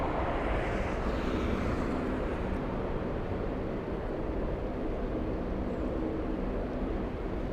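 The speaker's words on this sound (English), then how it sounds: "as we see that A380 on final" An Airbus A380 airliner on final approach at LAX gives off a continuous broad jet roar, steady and moderately distant, with no talking over it.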